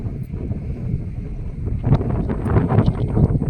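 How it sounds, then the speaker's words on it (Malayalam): Strong wind gusting outdoors near a house, a steady broadband roar buffeting the microphone and growing louder and rougher toward the end, with no talking. "നല്ല കാറ്റ് കേട്ടോ നല്ല കാറ്റ് കേട്ടോ"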